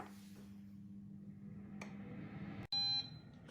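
An air fryer timer gives a single short electronic beep over a low, steady hum, with a faint click just before it, while cooking frozen corn on the cob.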